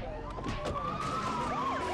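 Police siren wailing steadily in GTA 2 while the cops chase the player, its rising and falling pitch sweeping over a constant background rumble of game noise.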